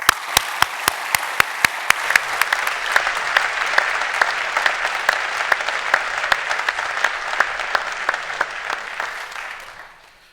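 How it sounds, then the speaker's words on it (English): An audience gives a sustained round of applause at the close of a lecture program, a steady wash of clapping with a few sharp, evenly spaced claps standing out, fading near the end. "We can give them all a round of applause"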